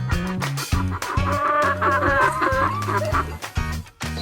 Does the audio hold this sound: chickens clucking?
yes